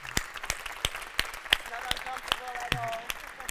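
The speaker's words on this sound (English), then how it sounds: "So I'd like to stand up and give her a round of applause" A small group at a conference session claps sparsely, with distinct separate claps spaced irregularly, fairly faint and roomy, while a voice murmurs briefly near the end.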